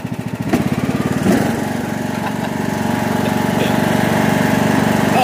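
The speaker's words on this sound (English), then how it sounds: "we're gonna go take the lawnmower for a little spin" A riding lawnmower engine drones steadily and loudly while being driven through a muddy field, its rhythmic pulsing continuous throughout with a brief bump partway in.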